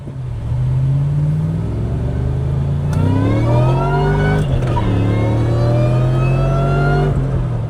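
A supercharged 2003 Ford Mustang Cobra convertible with a 4.6 engine accelerates hard, its loud, close exhaust climbing through rising revs, dropping briefly on a gear change, then building again with supercharger whine.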